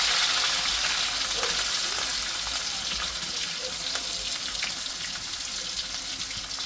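Onions and green chillies frying in hot oil, a steady loud sizzle and crackle that fills the whole stretch with no voices over it.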